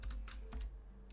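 Quick run of computer keyboard keystrokes, several crisp clicks in an uneven rhythm, close but fairly quiet, with no talking.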